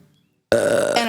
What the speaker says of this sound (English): Burping besties.